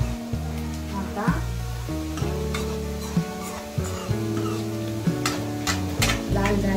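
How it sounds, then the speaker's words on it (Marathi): Chopped onions frying in oil for shepu (dill) bhaji while being stirred, a steady soft sizzle with light scraping strokes running beneath prominent sustained tonal background sound. "फिरून घेते या कांद्याला. तळल्या जातो ते तेलात."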